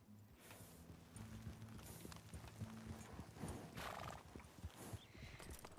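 Horses in the Red Dead Redemption 2 game clip-clop along at a trot in steady hoofbeats, with a neigh or whinny breaking through partway, fairly quiet and without talk.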